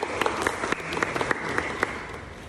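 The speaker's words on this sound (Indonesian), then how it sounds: "tepuk tangan dulu." An audience at a youth public speaking training in a village applauds the chairman of an Islamic foundation: a dense, steady patter of clapping with a few sharper claps standing out, moderately near and continuous throughout.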